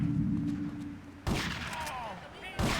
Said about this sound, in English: I'm just shooting some Chinese people.